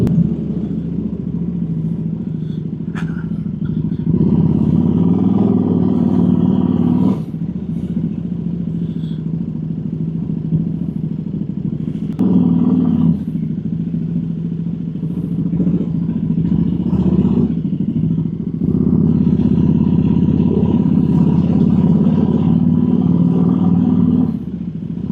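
A KTM RC8 V-twin motorcycle riding past the seaside, its engine a steady low rumble that swells in several surges of acceleration before easing back, heard from close by with wind noise and no talking.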